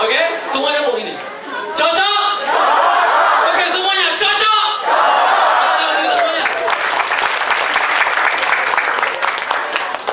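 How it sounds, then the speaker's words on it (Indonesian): An audience at a corporate training kick-off event chatters and chuckles while someone speaks, then breaks into loud, sustained applause that fills the room for the last few seconds. "Tepuk tangan kita semuanya."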